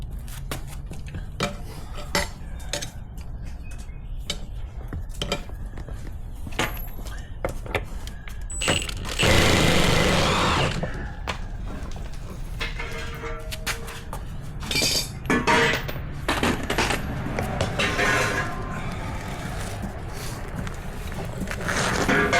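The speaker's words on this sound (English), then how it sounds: "So I'm going to get these wheels off" Wheels come off a Bobcat Harley rake with repeated metallic clinks, clanks and tool knocks close up, broken by a burst of louder rattling and scraping midway.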